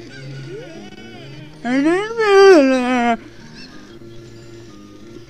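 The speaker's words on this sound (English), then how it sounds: "Must be like beating the chickens or something." A chicken (cucco) in the video game Zelda Ocarina of Time lets out one loud, warbling squawk lasting over a second, set among quieter game sounds, with people talking.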